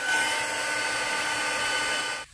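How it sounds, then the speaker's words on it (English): A heat gun blows over a papercraft card, giving a loud, steady, close-up airy whoosh with a fan hum that runs without a break before cutting off abruptly at the end. "so I'm just going to pop on my heat gun."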